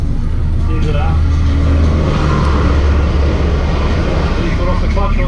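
A manual car pulls away as a learner driver releases the clutch, with a loud steady engine drone and road rumble inside the cabin under people talking.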